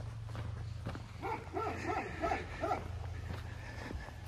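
A dog chasing a truck barks five times in a quick run, fairly near, over the low steady rumble of the truck's engine.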